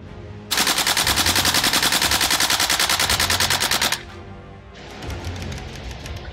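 An airsoft AK rifle fires bio BBs on full auto in one long, rapid, loud buzzing burst lasting a few seconds, followed by a quieter shorter run of shots, close up with no talk.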